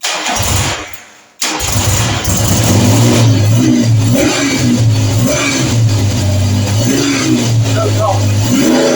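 A Triumph Trident T160 motorcycle engine starts after a short gap, then runs steadily on full choke with a loud, uneven idle and slight revving throughout.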